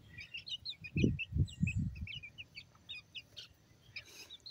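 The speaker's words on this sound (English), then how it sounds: "we'll be chasing little baby chickens all over the yard" Baby chickens chirp outdoors in a yard, a busy stream of quick high peeps scattered across several seconds, with a few low soft thumps or clucks early on and no voices.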